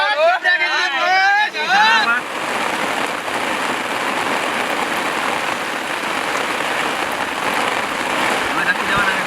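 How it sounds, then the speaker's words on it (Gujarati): Steady rain falls outdoors, a dense broadband hiss and patter that continues evenly throughout after a voice speaks briefly at the start. "વરસાદનો માહોલ હોય."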